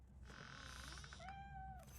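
A cat meowing in the video game Robocop: Rogue City, one drawn-out, faint meow with a rising then level tone, heard alone over a low background hum.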